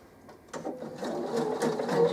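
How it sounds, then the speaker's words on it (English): A sewing machine top stitching a zipped pouch with French seams, starting up after a quiet moment and then running steadily with a fast, close mechanical whir. "you're going to top stitch down"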